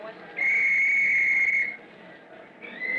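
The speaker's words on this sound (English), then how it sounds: "Soon as I blow my whistle." A shrill whistle blows one long steady blast, then a second shorter blast begins after a brief pause.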